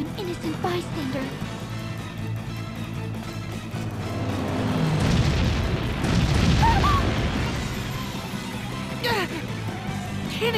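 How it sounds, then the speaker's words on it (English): Booming cannon fire in Bravely Default, with a heavy blast swelling in the middle of the clip over a rumbling backdrop, while people talk around it. "Cannon fire? This is madness!"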